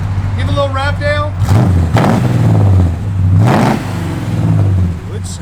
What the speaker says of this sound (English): Give a little rev, Dale.